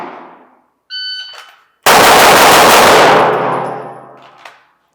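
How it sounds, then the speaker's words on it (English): A rapid string of six pistol shots fired as fast as possible from a draw out of a Safariland INCOG X holster, the loud reports running together into one dense burst after a couple of brief metallic beeps. "This is going to be 6 rounds as quickly as I can go."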